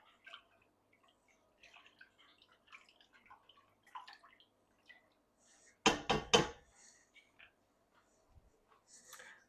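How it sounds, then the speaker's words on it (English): Breakfast stirred in a container, heard as a close run of quick scraping, clinking strokes in one short burst, with faint small taps and rustles scattered before and after in a quiet room. "Let's make sure we stir."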